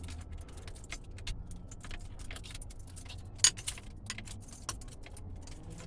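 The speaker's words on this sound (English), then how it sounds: "If I can get the key in the ignition." Car keys jangle and tap near the ignition of an old Cutlass whose fuel lines were just blown out, with small metallic clinks and one sharper rattle, close and fairly quiet.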